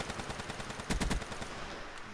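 Rapid bursts of gunfire from a gun in a video game, a steady automatic rattle with a louder, heavier cluster of shots in the middle, close and continuous for about two seconds.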